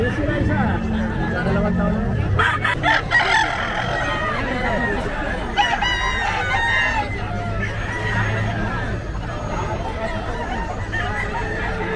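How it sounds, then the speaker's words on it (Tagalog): Fighting roosters crow repeatedly amid clucking fowl and a busy crowd of people talking, loud and close in the lively Bocaue pet market. "napakarami yung mga manok panabong dito"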